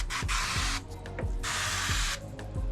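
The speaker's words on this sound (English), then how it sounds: "Just spray the gasket" Gel sprayed from a bottle onto the window gasket of a 2022 Kia EV6 during tint work, two long hissing bursts over a steady low workshop hum.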